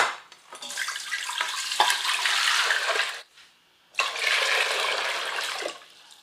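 Three liters of water poured into an Instant Pot for beef sinigang, a steady splashing gush that runs for about three seconds, breaks briefly, then resumes at the same strength.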